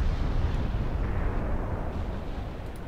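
Armour-piercing shell salvo from warship guns in the naval battle game Ultimate Admiral, a deep rumbling boom that rolls on loudly and heavily for the whole stretch, with no voices over it.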